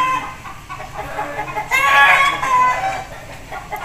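Aseel breeder roosters at a farm in Mandi Bahauddin, crowing and clucking nearby, with one loud drawn-out crow in the middle over steady background calls.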